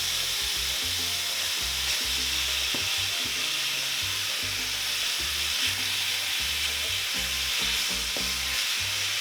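Ground taco meat frying in a pan, a loud, steady, close-up sizzle with hissing crackle throughout and the occasional scrape of stirring, over faint background music.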